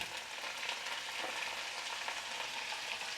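Turmeric and spices frying with ginger paste in oil, a constant close crackling sizzle with occasional stirring scrapes and no talking.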